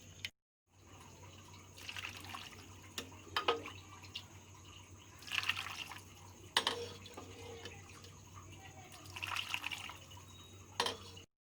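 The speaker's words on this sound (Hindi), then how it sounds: "मटन को मैं अलग कर लूँगी और छन्नी से यखनी को छान लूँगी।" Mutton yakhni broth pours through a sieve in faint splashes and trickles that come in several separate bursts, quiet and close, over a low steady hum.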